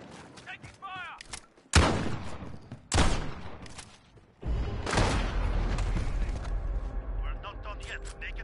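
Gunfire and explosive bursts from a Call of Duty Modern Warfare match, loud sharp cracks at irregular intervals followed by sustained rumbling fire, with game voices speaking in between.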